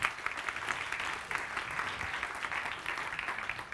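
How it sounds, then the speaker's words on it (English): A FameLab science-communication semi-final audience applauds the judges with a continuous, even wash of clapping from a large crowd, fairly distant and steady. "So please can we give our judges some applause of encouragement"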